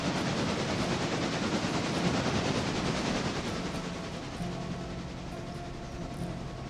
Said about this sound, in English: we're off and running with our steam passenger train